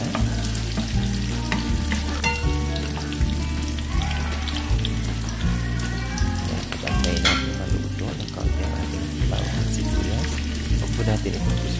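Garlic sizzles in a frying pan while being stirred, a loud crackling hiss with clinks and scrapes of the utensil, backed by steady music.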